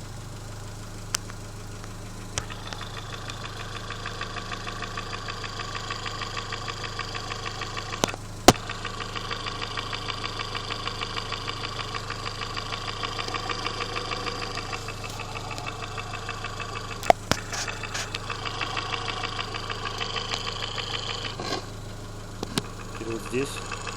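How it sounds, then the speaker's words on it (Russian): A Mitsubishi 4G63T engine with an electric turbo idles with a steady, rapid metallic knock, picked up through a stick held against it, close and continuous, with occasional sharp clicks. "звук, стук точнее, мотора 4G63T на электрик турбо"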